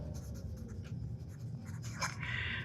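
Pen writing by hand on paper, close scratchy strokes in short irregular bursts with a few longer scribbles near the end, heard alone.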